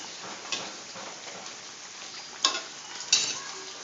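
Banana slices fry in a pan of hot oil with a steady, close sizzle and a few sharper crackles and pops near the middle and end; no one speaks.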